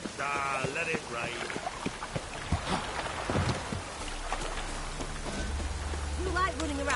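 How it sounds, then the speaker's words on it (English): Steady rain hisses and patters throughout a PS4 video game scene, a constant wash of water noise with game voices and a low rumble underneath. "Let it rain"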